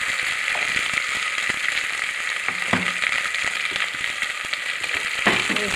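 Masala ingredients sauté in a pan with a constant close sizzle, broken now and then by light clicks and scrapes of a stirring spoon, no one speaking.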